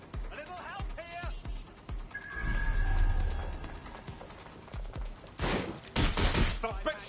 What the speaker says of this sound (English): Suspect shooting